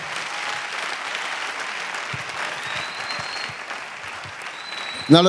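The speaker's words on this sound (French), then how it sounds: "Acclame très fort pour le Seigneur." A church congregation in Brazzaville applauds steadily throughout, a dense wash of clapping, with a sharper, louder burst of cheering right at the end.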